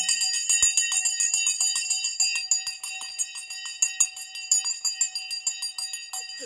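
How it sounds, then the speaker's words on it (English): A stock market opening bell rings continuously, a bright rapid metallic clanging that persists for several seconds without talk. "let's ring the bell"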